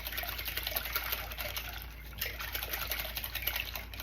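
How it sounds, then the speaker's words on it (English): Peanut stew whisked hard in a pot, a steady close wet swishing and churning that runs continuously for a few seconds with no talk over it. "High-powered whisking going on here."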